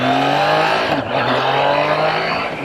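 A Triumph Trident 660 motorcycle, a 660cc inline triple with dual overhead cams and a 6-speed transmission, revs hard and close, its engine note rising steadily, dipping briefly at a shift, then climbing again.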